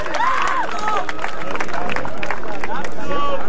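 Audience clapping and cheering at a Spanish-language freestyle rap battle, a broad wash of applause with shouts and a host's voice over it, loud and continuous.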